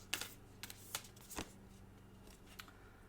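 A deck of Animal Dreaming Oracle cards being shuffled alone, with several crisp riffling bursts and soft flicks spread over a few seconds at close range and quiet level.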